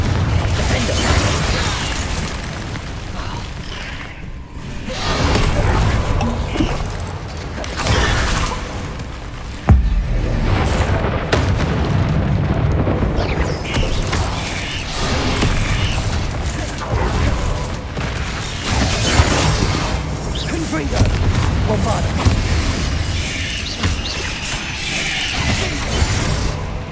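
Repeated heavy booms and bursts from Confringo blasting spells in Hogwarts Legacy, loud and close, landing in irregular succession over a continuous clatter of combat and debris, with brief lulls between blasts.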